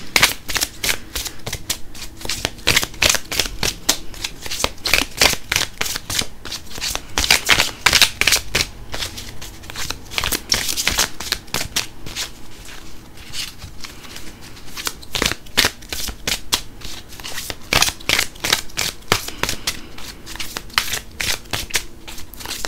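Tarot cards being shuffled over and over, a long run of crisp riffling and slapping bursts in an irregular rhythm, close and clear with no talk.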